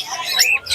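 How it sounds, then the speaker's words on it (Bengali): Cockatiels in cages at a pet bird market in Serampore let out short, shrill squawks close by, with a brief dip before a last call. "এগুলো ককটেল। ককটেল দেখুন"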